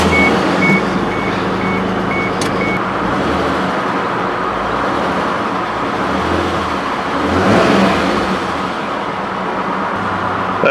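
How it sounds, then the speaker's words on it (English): A 2002 Isuzu Trooper with a 4L30E automatic transmission fault runs rough at idle in a loud, steady, close drone with uneven throbbing, and a short series of beeps sounds near the start. "She's running, but she's running rough, and it still ain't got no gears."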